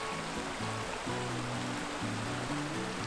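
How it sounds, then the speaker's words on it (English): A forest stream cascades over rocks on a loop trail at Bridal Falls, a dense steady rush of water, close and continuous, with a low melodic tone underneath. "More cascading water."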